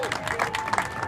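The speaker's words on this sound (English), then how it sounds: "give me a round of applause for our first speaker today" Outdoor crowd at a March Against Monsanto rally in San Diego applauds briefly for the first speaker, a short patter of clapping with faint voices mixed in.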